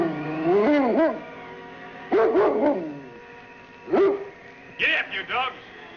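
Sled dogs bark and yelp in several separate bursts, close and fairly loud, with someone shouting commands between and over them in an old Yukon radio drama.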